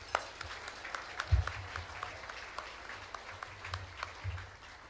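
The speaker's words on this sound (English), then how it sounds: "Give her another round of applause." Applause from an awards show audience, faint and distant, with a few low thumps over a steady wash of clapping.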